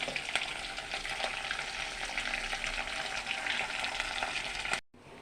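Moringa leaves dry-roast in a pan with a steady, close crackling hiss that runs evenly, then cuts off abruptly near the end.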